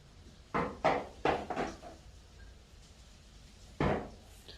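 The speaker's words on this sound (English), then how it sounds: "That knocking is the wind because it is extremely windy." Several hollow wooden knocks from strong wind against a building, in an irregular cluster, then a pause and one more thud, loud and close against a quiet background.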